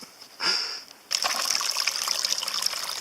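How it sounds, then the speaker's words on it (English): Water rushing across a mountain trail in the Bell Mountain Wilderness of Missouri after flooding rains, a steady close gushing flow that swells suddenly after a brief quieter trickle, with no talk over it. "there's a lot of water up here on this mountain."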